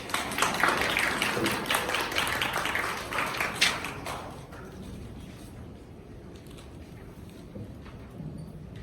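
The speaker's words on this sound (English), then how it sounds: "Can y'all please give him a round of applause?" An audience at a cotillion orientation gives a round of applause, loud, dense clapping for about four seconds that then drops away to quiet room noise.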